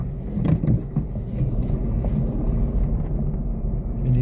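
A car moves along a busy city street in Ponto Novo, Aracaju, giving a steady low engine rumble close by that stays fairly even and eases slightly toward the end.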